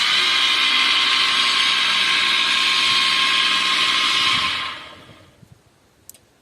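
An electric lift motor raises the carriage of a small apiary mini loader, giving a loud, steady whine for about four and a half seconds. It then winds down and stops, leaving a faint click or two.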